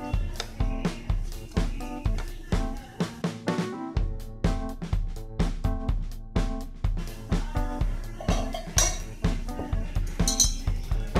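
Potato filling for peri peri samosa mashed and mixed in a bowl, a steady rhythm of sharp metallic clinks as a utensil strikes the bowl over and over, fairly loud and close, with a brief pause partway through.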